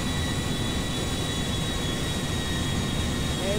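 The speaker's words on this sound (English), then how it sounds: "Jet is so loud." A jumbo jet engine in a video game gives a steady, loud, unbroken roar with a faint high whine on top and no voices.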